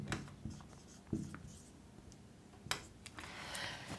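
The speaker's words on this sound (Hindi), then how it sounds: "420 इधर लिख देते हैं" Numbers being written on a classroom board in a maths lesson: scattered faint scratchy strokes and light taps, nearby in an otherwise quiet room.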